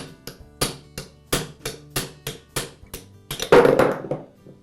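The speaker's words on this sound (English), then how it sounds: "Now I can use a punch and a hammer to remove the bearing." A hammer drives a punch to knock out a 696ZZ ball bearing from a Makita angle grinder spindle: a dozen or so sharp metallic taps at an uneven pace, ending in a quicker flurry of blows, close and alone.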